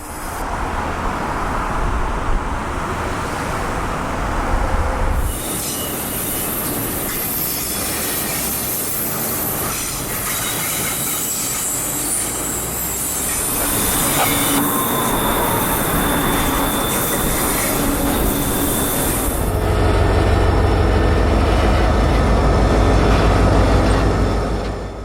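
A Florida East Coast intermodal freight train carrying auto racks rolls past close by, a loud, continuous roar of wheels on rail with squealing and rising intensity as cars pass, no talk.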